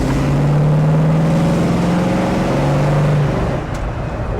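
A 1969 Ford Mustang Shelby GT500 with a Cobra Jet engine gives off a deep, loud, close rumble that holds steady with a slight pitch rise, then eases off near the end, with no talking.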